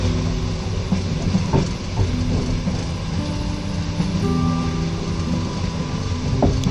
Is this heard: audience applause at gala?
no